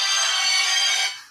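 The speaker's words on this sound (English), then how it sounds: "Didn't mute the phone." A phone ringtone trills briefly and brightly at close range, a single sustained burst that cuts off after about a second.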